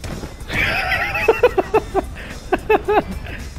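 A horse in the video game Red Dead Redemption Online whinnies loudly, then hooves clip-clop in a quick irregular series close by.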